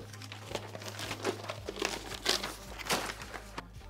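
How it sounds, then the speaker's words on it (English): Sheets of paper for practicing gluing a test print onto a backing are laid down by hand, giving soft, close crinkling and rustling in a few irregular bursts over a low steady hum. "I'm gonna start laying down some paper."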